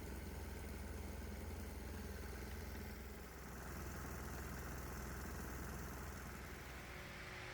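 Small diesel engine idling on a hot day, a steady low mechanical drone with constant rumble and broadband hiss, faint and unbroken with a slight dip midway.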